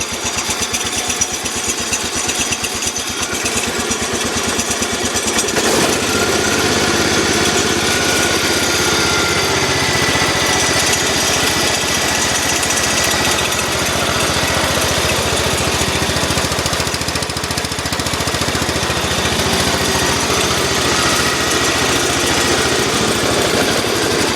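A Massey Ferguson 1200 lawn tractor engine, no mower deck fitted and choke not hooked up, runs steadily and loud nearby, with a harsher rougher start for the first few seconds before settling into a constant drone, no talking.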